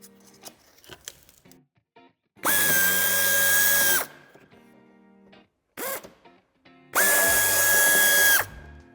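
Power drill backing out a screw while a towbar is fitted to a 2015 BMW 2 Series Gran Tourer (F46): two loud, steady whirring bursts of about a second and a half each, separated by small clicks and handling noises.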